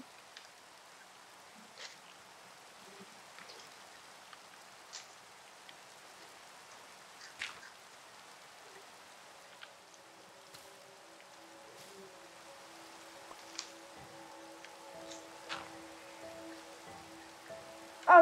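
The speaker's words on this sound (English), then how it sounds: "It's still raining, even though it's daytime." Rain falling in the Minecraft video game, a soft, steady patter with scattered sharper drops throughout, and sustained tonal notes entering in the second half.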